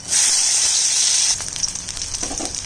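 Dried chillies and whole garlic cloves drop into hot oil with a loud, bright hiss that eases after about a second into a softer, crackling sizzle.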